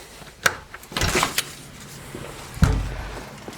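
A van's door is popped open near a wall-mounted hitch receiver, giving a sharp click, a rattling shove, then a second thud as the panel releases, close and fairly loud with no talk.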